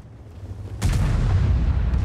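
A tank cannon shot in World of Tanks goes off as a single sudden heavy boom after a quiet stretch, followed by a loud sustained low rumble that carries on to the end.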